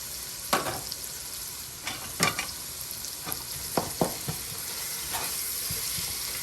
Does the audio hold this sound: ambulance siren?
no